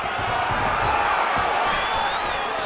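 Arena crowd at a UFC bout between Khamzat Chimaev and Israel Adesanya, a dense, steady roar of oohing spectators filling the space, loud and continuous with no clear break.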